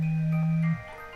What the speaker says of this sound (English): that's my alarm telling me to stop streaming